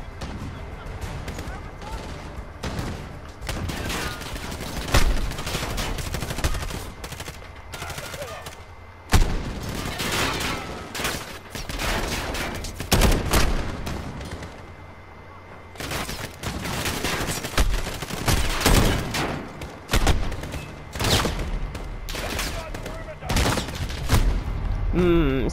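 Repeated sniper and weapon fire crack through a war video game, a dense run of sharp shots and bursts at varying loudness, broken by brief quieter gaps, with a voice talking over parts of it.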